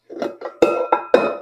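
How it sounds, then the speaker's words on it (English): A mixing bowl lifted off a stand mixer, several close metallic clanks and ringing clinks in quick succession, the last few louder with a short bright ring, and no talking. "we're going to take our bowl off the mixer"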